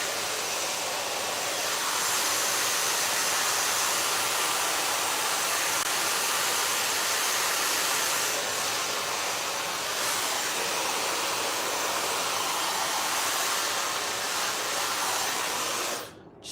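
A small hair dryer blows steadily across hair as it is laid down and smoothed, giving a loud, constant rushing whoosh close by that cuts off abruptly at the very end.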